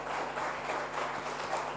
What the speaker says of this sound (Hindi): क्या हम जोरदार तालियां खुदा के जलाल के लिए बजा सकते हैं